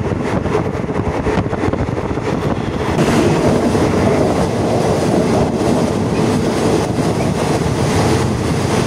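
A train rumbles steadily and loudly from inside a carriage passing through Thailand's longest railway tunnel, with dense rattling and a boomy, enclosed roar that swells partway through.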